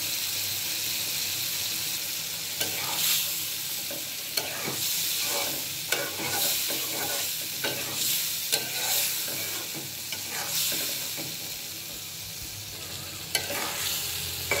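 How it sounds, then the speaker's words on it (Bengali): Bean seeds fry in spiced masala, with a steady close sizzle and hiss overlaid by periodic spoon scrapes and stirring strokes for the whole stretch. "সিমের বিচিগুলো আমার কষানো হয়ে গেছে"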